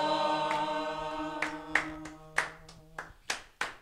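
A church congregation claps hands in time during a Kinyarwanda choral worship gathering, distinct sharp claps landing at irregular beats over a fading sustained sung chord that drops away, leaving the claps standing more clearly near the end.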